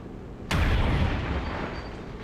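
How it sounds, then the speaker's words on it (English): A soldier fires on robotic enemies in XCOM 2, a single sharp blast-like gunshot that booms loudly and then decays into a lingering rumble. "It's kind of funny having a Helldiver shoot at bots."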